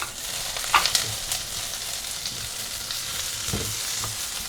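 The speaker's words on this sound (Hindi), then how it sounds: "अब हाई हीट में हम 30-40 सेकंड सौटे करेंगे। सब्जियों को गलाना नहीं है, क्रंच बरकरार रहना चाहिए।" Red and yellow bell peppers, green capsicum and corn sauté with garlic in hot oil over high heat, giving a steady close sizzle with a few stirring scrapes and clatters and no talking.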